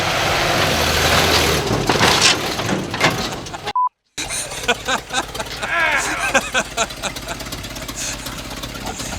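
A loud monster truck engine roars at high revs in high gear, with rattling and rumbling throughout, cut by a brief dropout midway.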